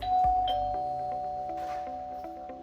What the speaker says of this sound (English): And with the wireless chime included, you get everything you need in one complete kit.